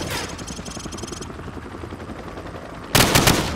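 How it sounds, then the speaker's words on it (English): Hip-fired automatic weapon bursts ring out in the Call of Duty 4: Modern Warfare firing range, a rapid rattling stream that fades, then a louder fresh burst near the end. "Now, shoot at the targets while firing from the hip."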